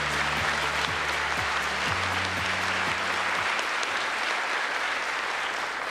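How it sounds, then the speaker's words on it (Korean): Audience applause at a Korean government policy briefing, a broad steady roar of clapping lasting the full stretch, with a low droning tone underneath during the first half. "큰 박수 부탁드립니다."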